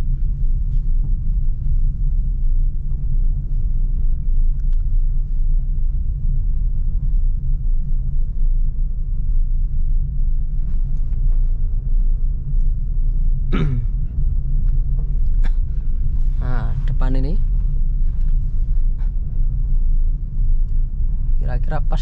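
A Suzuki Ertiga drives fast in third gear on a road, its engine and tyres making a steady, loud low rumble throughout, with a few brief voice sounds near the end.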